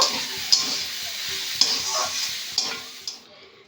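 A spiced cauliflower filling with cumin and garam masala powder is stirred in a hot pan, with four or five sharp spatula scrapes over a soft sizzle that fades toward the end.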